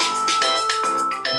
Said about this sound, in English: Is that a flip phone ringtone?